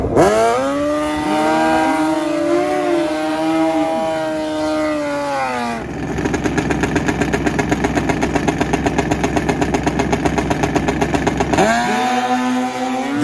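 A Suzuki Hayabusa drag racing at the launch, the engine screaming up through rising revs, then a loud rapid-fire buzzing stutter near the line before the revs swing up again, close and dominant.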